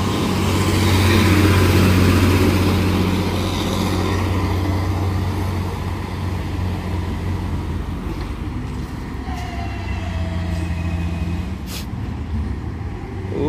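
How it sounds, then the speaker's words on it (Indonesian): A Fuso 6x4 truck engine labours on a hill road near Bukit Kodok, a loud, steady low rumble with a droning tone that holds throughout, brief air-brake hiss and traffic noise late on, with no talk. "Ini ada truk Fuso"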